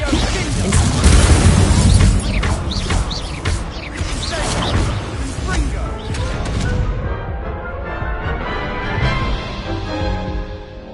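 Spell combat in Hogwarts Legacy with a Confringo explosion spell, a burst of loud booms, crashes and whooshing impacts in the opening seconds, easing into softer rumbling magic effects.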